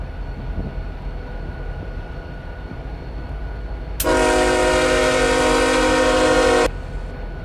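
A Canadian Pacific freight train horn from the RO-Scale Sandbox game blares loud and steady for about three seconds over a low rumbling background.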